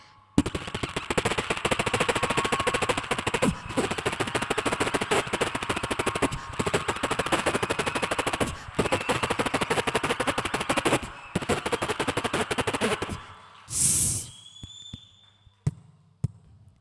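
Fireworks burst at a college arts festival stage performance in a rapid, dense string of loud crackling bangs that runs for about thirteen seconds with short gaps, then ends in a final whooshing burst and fading pops.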